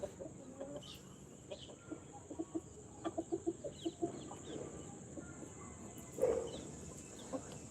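Hens at a poultry yard cluck in short, soft bursts, with a quick run of clucks in the middle and a louder squawk near the end, set against a faint steady hum.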